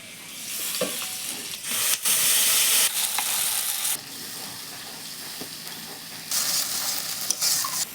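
Whole spices (cumin seeds, bay leaves, dried red chillies, cardamom, cloves and cinnamon) crackle and fry in hot oil for a Bengali fish curry, a loud, steady sizzle with a few stirring scrapes and louder bursts, no voices.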